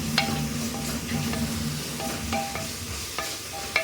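Carrots and beans are stirred in a hot pan for a vegetable biryani, with a soft sizzle under intermittent scraping and clinking of a spatula against the metal.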